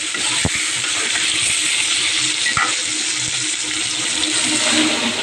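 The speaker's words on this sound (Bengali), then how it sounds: "একটু আলু আর পটলটা একটু লাল করে ভাজবো" Potato and pointed gourd frying in a pan, a steady close sizzle with a couple of sharp clinks from stirring.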